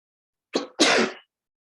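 One person sneezes close by, a short sharp intake followed by a loud, breathy burst, with silence around it.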